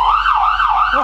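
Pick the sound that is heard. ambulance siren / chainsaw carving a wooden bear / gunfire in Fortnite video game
ambulance siren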